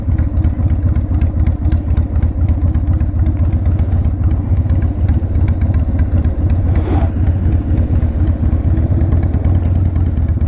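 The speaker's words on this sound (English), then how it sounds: "This bike sounds good. It's definitely loud. Probably louder than what my neighbors like." An old Harley-Davidson 1200cc motorcycle engine runs loud and close, a continuous throbbing idle with a rough, clattery pulse that holds steady throughout.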